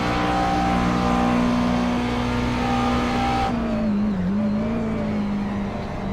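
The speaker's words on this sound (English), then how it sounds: "The Radical blows by the McLaren, coming down into the carousel here at full throttle." A Radical race car at full throttle roars past a McLaren into the carousel at Watkins Glen during a multiclass race. The loud, sustained engine note holds steady, then drops and wavers near the end as the car passes.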